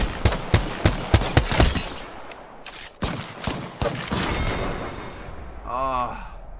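A rapid burst of automatic gunfire from the video game Apex Legends cracks out in evenly spaced shots, followed by scattered further shots and a voice speaking near the end.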